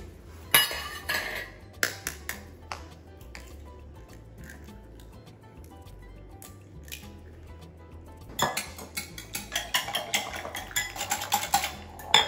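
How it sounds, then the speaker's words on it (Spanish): Eggs broken into a bowl and beaten for Cuban torrejas, heard as sparse clinks and taps of a utensil on the bowl that turn into a quicker, denser run of close metallic clicking and whisking near the end. "porque vamos a batir los huevos"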